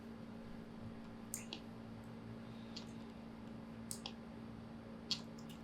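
A few sparse, faint computer mouse clicks while working in 3D rendering software, spaced irregularly over a quiet background hum.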